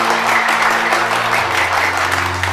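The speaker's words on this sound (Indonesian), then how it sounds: "Gue minta tepuk tangan buat polisi Indonesia" Dense crowd applause for Indonesian police at a staged drama event, a steady wash of many hands clapping with low musical tones held underneath throughout.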